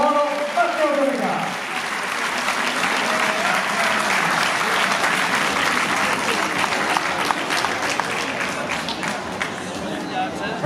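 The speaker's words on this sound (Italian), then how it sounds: "Gli applausi sono per i due portacolori della Alutecno" Sustained crowd applause greets two Alutecno cyclists at a track cycling award ceremony in Fiorenzuola, dense and steady throughout, with a voice briefly audible at the start.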